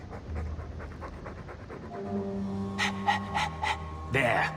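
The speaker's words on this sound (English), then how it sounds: "All that noisy dog breath, day in, day out, make him stop." A dog pants loudly in Dragon Age II, a quick run of close, rhythmic breaths that gives way to game music tones and a louder burst near the end.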